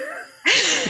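A single short sneeze bursts out abruptly after a brief quiet, strong and close to the microphone.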